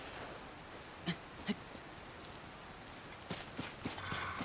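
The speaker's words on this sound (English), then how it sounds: "Stop raining." Rain falling in the video game Zelda: Tears of the Kingdom, a soft, steady hiss with a few faint taps and thumps scattered through it.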